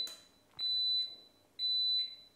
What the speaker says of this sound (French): on a ce joli bip qui se met